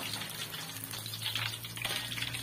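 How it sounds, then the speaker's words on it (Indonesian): Battered fish frying in hot oil until crispy, a faint steady sizzle and bubbling crackle with no speech over it. "desiran tu, maknanya ikan yang dah betul-betul garing lah"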